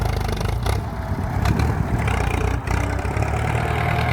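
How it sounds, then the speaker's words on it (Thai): A bulldozer's heavy engine drones steadily at moderate revs while pushing soil, a constant low rumble with slight shifts in load, close by and without speech. "อันนี้ก็รอบเครื่องก็ไม่ได้หนักมากครับ เร่งเครื่องก็ไม่ได้ถึงขั้นแบบว่า"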